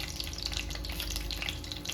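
Whole spices sizzle in hot oil for chicken biryani: bay leaf, cinnamon, cloves, cardamom, fennel, poppy seeds and cashews. A steady, dense crackle and spit of frying continues without pause at moderate, close volume.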